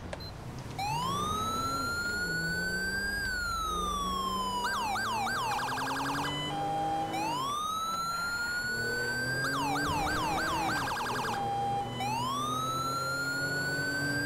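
An ambulance siren wails in the video game Grand Theft Auto V. It is loud and close and runs the whole time, switching between a long rising and falling wail and fast yelping bursts.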